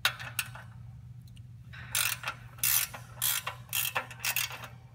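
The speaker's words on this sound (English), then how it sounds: "this is a 15 millimeter nut. Going to use your 15 millimeter wrench." 15 millimeter wrench loosening a chain adjustment nut, a series of close ratcheting metal clicks in short bursts with brief gaps, crisp and clear over a faint background hum.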